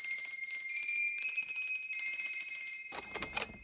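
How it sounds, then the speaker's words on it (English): A bell rung at a North Pole workshop gives sustained, ringing high tones that hold steady for several seconds, then give way to a burst of clattering noise near the end. "Rang the bell."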